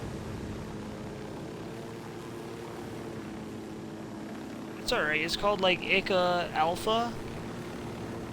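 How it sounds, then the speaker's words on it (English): A helicopter in Ghost Recon Wildlands hums as a steady rotor drone throughout, with people talking over it in the second half. "I got a chopper, I can pick you up"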